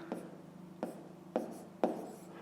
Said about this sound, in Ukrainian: Пишемо тоді перше.